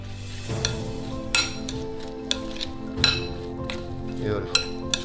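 Seafood ceviche with garlic being stirred in a bowl, with a few separate clinks and scrapes of a utensil against the dish spaced across a quiet kitchen.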